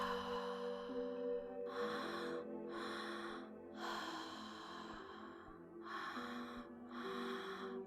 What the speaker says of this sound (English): I'll be breathing alongside you